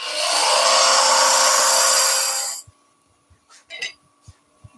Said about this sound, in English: Then we'll go to our scraper, start in the middle, up and down with the handle, and then bring out.